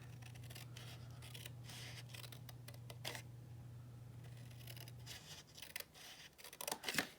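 Scissors trim small pieces of cardstock for a handmade get-well card, a quiet series of crisp close snips and clicks over a faint steady hum.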